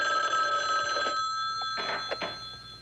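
A telephone rings loudly and close, with a steady electronic bell tone that holds and then fades out, followed by faint handling noises.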